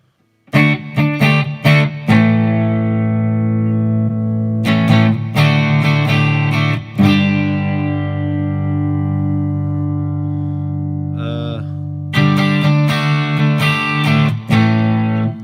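Distorted electric guitar from a Headrush Gigboard through a real JCM 800 amp, output gain turned down, plays chords and riffs, loud and sustained, with pauses and a brief scraping noise between phrases.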